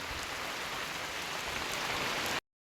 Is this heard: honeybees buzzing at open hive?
no